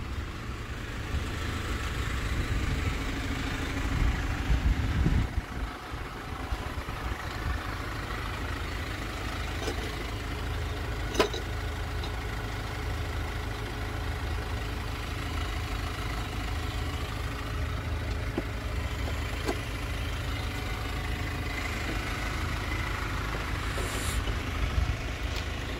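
A car engine runs at a steady idle after its battery has been replaced, a continuous low rumble close by with no talking, recorded at a mobile mechanic's van setup in Saudi Arabia.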